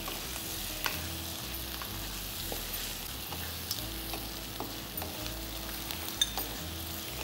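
Fish heads rubbed with salt and turmeric fry in a pan, giving a steady close sizzle with scattered crackles and pops and a low background hum.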